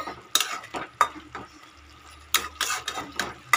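A spoon stirs a small-fish curry with coriander leaves in a pan, producing bursts of scraping and soft clatter in irregular clusters over a faint low hum, with quieter gaps between strokes.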